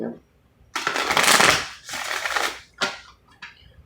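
A deck of cards is riffled and bridged in several quick bursts, crisp and close, with short pauses between shuffles.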